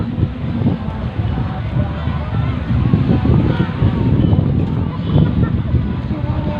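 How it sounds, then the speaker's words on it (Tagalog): Strong gusty wind rushes steadily at San Fabian Beach in Pangasinan ahead of an approaching storm, buffeting the microphone with a loud low rumble, with surf faintly underneath. "lumalakas na yung hangin, parating na yung low pressure area"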